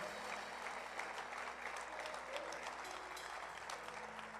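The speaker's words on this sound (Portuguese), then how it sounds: "Pode aplaudir, mas se é para aplaudir, pode com vontade" A church congregation applauds during a pastor's sermon, sustained even clapping heard from a distance in a reverberant hall, with a faint steady hum underneath.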